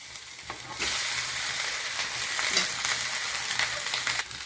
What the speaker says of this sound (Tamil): இப்போ வெங்காயம் இதெல்லாம் ஓரளவுக்கு நல்லா வதங்கட்டும்